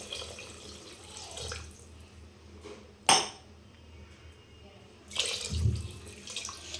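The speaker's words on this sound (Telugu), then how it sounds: "ఈ విధంగా మన ఆయిల్ మొత్తం పైకి వచ్చిన తర్వాత 500 ml వరకు వాటర్ పోసుకోవాలండి." Water, about 500 ml, poured into a pot of mutton paya curry once the oil has risen to the top, with a sharp clatter midway and a louder splashing pour near the end, close and alone.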